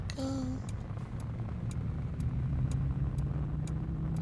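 A car pulls out of a parking lot on a rainy night with a steady low engine and road rumble, a brief tone near the start, and regular soft ticks like an indicator over the drive.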